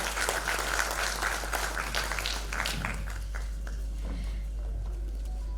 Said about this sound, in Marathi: जोरदार टाळ्या होऊ द्यात आलेल्या सर्व मान्यवरांसाठी.